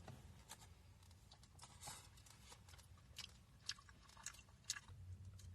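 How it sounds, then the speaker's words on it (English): Butter-soaked pierogies filled with sweetened ricotta are eaten by hand with soft, close, quiet chewing and small wet bites, and nobody talks. "I might just pick them up and eat them with my hands."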